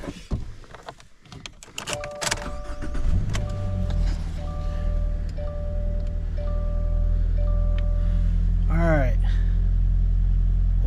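A farm vehicle's engine cranks and catches, then settles into a steady low idle that runs to the end after an oil change, with dashboard warning beeps, clicks and a brief remark spoken early.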